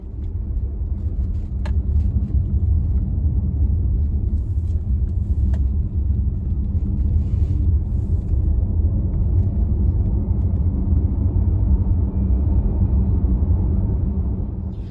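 Volkswagen ID3 electric car driving uphill, with a steady low road rumble and faint whine inside the cabin, continuous throughout without speech.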